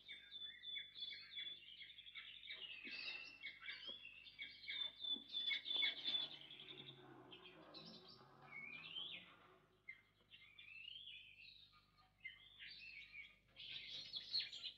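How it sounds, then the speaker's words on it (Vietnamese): Birds singing close by, a lively run of bright chirps and warbling phrases that rise and fall in bursts, alone without talk. "Chim hót như vậy dường như chỉ có trên thiên đường."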